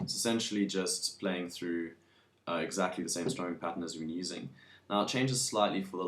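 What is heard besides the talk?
No distinct noise like a dog, phone or traffic.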